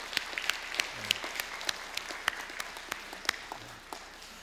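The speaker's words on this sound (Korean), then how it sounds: "우리 박수로 우리 함께 같이 축복하도록 합니다" Scattered clapping in a church congregation, fairly faint and thin, with separate sharp claps standing out from a soft wash of hands over a quiet room.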